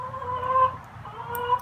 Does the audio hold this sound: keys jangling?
no